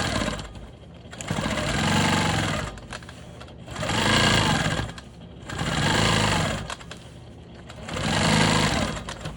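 A Quilt Maker Pro 20 quilting machine stitches ruler work on a triangle quilt block, running in four steady bursts of rapid needle chatter with short pauses between them, close and loud.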